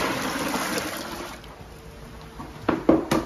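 Water pouring into a mixing tub for self-levelling floor compound, a steady splashing stream that thins out, then a few louder sloshes and splashes near the end.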